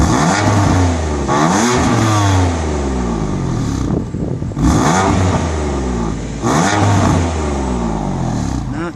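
A 2015 BMW M4 Coupe's twin-turbocharged six-cylinder engine, rated at 425 horsepower, revs hard three times in succession, each rise climbing and falling back, loud and close, with a brief quieter dip between the second and third revs.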